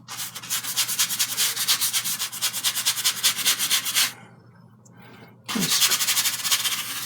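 A brush scrubs alizarin crimson and clear medium onto a canvas in rapid, rhythmic back-and-forth strokes, loud and close. It pauses briefly, then resumes with the same rasping rub.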